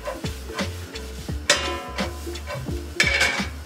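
Bacon and onions sauté in a pan with a steady sizzle, broken by repeated scraping stirs and a few sharper clanks of the utensil against the pan.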